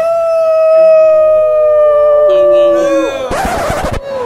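At a furry convention, a person imitates a wolf or fox with one long, loud, wavering howl that slides down in pitch. A sudden burst of crowd noise follows it.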